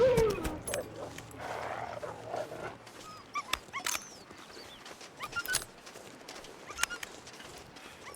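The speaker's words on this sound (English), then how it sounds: "I get distressed by hearing dogs making that whimper." Wolves whimpering like dogs in the survival game The Long Dark, with faint whines and yelps scattered among sharp clicks and knocks, plus a rushing swell near the start.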